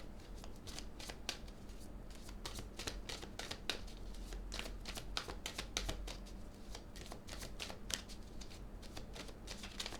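A deck of playing cards being shuffled in repeated quick riffles and snaps, close and fairly quiet, with steady rhythmic bursts throughout and no talking.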